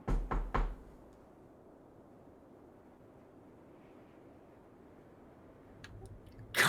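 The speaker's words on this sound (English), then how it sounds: "a knock at the door" Three quick knocks on a door sound close and sharp at the start, followed by a long, quiet stretch of room hiss and a couple of faint taps near the end.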